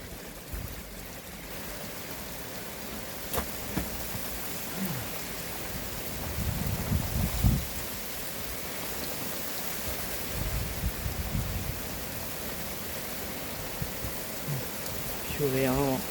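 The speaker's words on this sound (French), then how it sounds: "il pleut énormément" A steady roar of very heavy rain during a thunderstorm in Montady, France, constant and close, with a few low rumbles and faint voices now and then.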